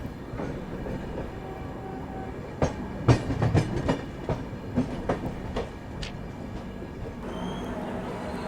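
The Avadh Express rolls along slowly, giving a low rumble broken by a run of sharp wheel clacks and knocks in the middle, with no talking.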